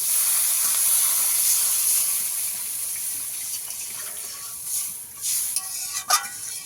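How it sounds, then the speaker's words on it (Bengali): Water is poured into a pan of spiced hilsa fish curry with potatoes, giving a loud hissing rush and sizzle that gradually softens, followed by a few bubbling splashes and stirs near the end. "এবারে জল দিয়ে দেবো, জল"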